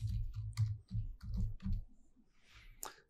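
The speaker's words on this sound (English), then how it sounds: "And let's just press enter on the keyboard." Keys on a computer keyboard are tapped in quick, close clicks, first in a busy run of keystrokes and then fewer, sparser taps, ending with one sharp final press.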